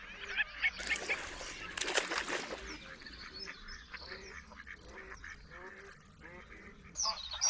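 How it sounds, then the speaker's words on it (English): Greylag geese honking and red-headed male pochards giving soft tooting calls in a marsh, a busy overlapping chorus of repeated calls at moderate distance, some louder bursts near the start and end. "Some red-headed male poachards are tooting, trying to win the favors of the grey-feathered females."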